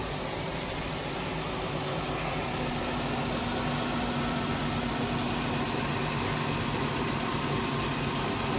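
A car engine idling a little high after repair work with coolant not yet bled, a steady dense rumble held close and continuous with no talking.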